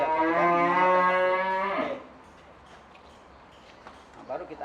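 A sacrificial cow lets out one loud, close moo lasting about two seconds, followed by quiet shuffling and a brief spoken word near the end.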